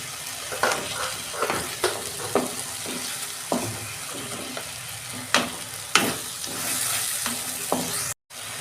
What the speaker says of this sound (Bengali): মশলাটা যাতে কাঁচা গন্ধ যায় আমি ভালো করে একটু কষে নেবো